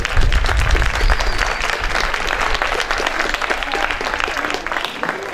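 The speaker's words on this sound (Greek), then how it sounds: "Ένα θερμό χειροκρότημα, παρακαλώ." Warm, loud applause from the crowd at a Cretan music festival, dense and continuous throughout, with a low rumble of crowd noise underneath.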